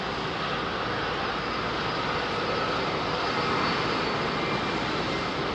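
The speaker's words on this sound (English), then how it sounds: "sitting on the brakes and powering up the engines and then letting the brakes off" Airbus A380 jet engines at London Heathrow runway 27R spool up to full takeoff power, a steady, loud, broadband roar close by that holds constant throughout.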